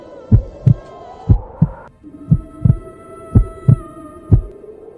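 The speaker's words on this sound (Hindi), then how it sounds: "उसका दिल जोर जोर से धड़कने लगता है।" A pounding heartbeat sound effect thumps in steady double beats, loud and close, over a low, droning hum with no other sounds.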